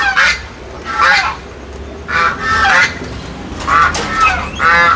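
Domestic fowl honk repeatedly in a school yard, loud nasal goose-like calls coming in bursts close by over a quiet background.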